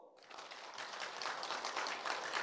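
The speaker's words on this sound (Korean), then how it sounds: "박수." Church congregation bursting into applause during a sermon at a Korean church, a dense wash of many hands clapping that starts abruptly and swells steadily, filling the space without any talk over it.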